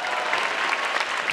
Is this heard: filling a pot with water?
no